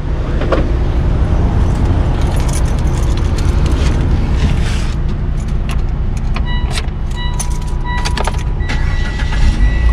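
A car is started after its expired battery has been replaced, and the engine settles into a loud, steady idle hum with scattered clicks and rattles from the cabin; no talking is heard.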